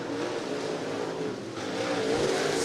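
Late model race cars roaring around the dirt oval at Cottage Grove Speedway, a loud continuous engine drone that swells slightly as the cars push through the turn, with no voices over it.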